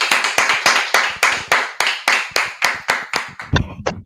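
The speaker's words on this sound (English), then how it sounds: "All right, clap it up." Hands clap together in a steady, rhythmic burst of about a dozen sharp claps, loud and close, at the end of a class, ending with a couple of scattered final claps.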